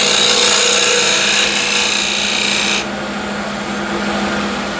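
Old window sill wood spinning on a woodturning lathe while a tool skims its surface, a loud continuous hissing whir that drops slightly partway through, with no voices.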